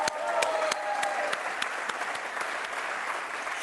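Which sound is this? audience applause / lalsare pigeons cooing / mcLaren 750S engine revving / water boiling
audience applause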